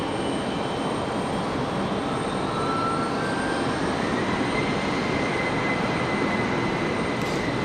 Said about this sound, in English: There goes our CRJ finally on the move